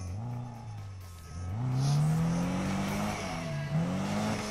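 A racing car engine in the video game Need for Speed revs and climbs in pitch through gear shifts, with a steady droning whine under a game-like mix.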